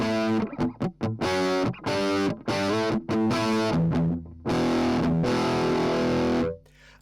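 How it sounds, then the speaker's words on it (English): Choppy bursts of overdriven, fuzzy electric guitar with preamp distortion play a rhythmic riff with short stops, ending on a long sustained distorted chord. "There's some preamp distortion."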